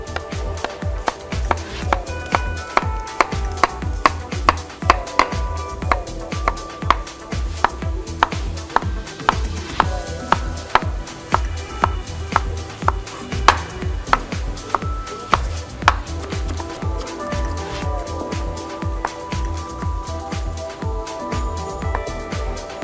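A knife chops onion finely on a cutting board in a steady run of crisp, evenly spaced thuds, loud and close, with a few short pauses between runs of cuts.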